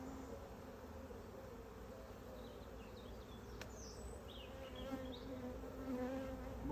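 Honey bees crawling over the tops of hive frames during an inspection: a steady, close, faint buzzing drone, with individual bees whining briefly past.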